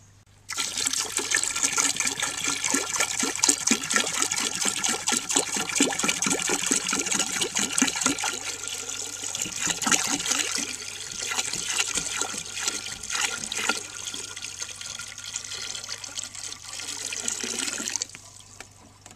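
A 1957 Standard Cadet toilet, using 4.5 to 5 gallons per flush, flushes with a loud rushing gush, then settles into steady trickling and hissing as the tank refills before stopping.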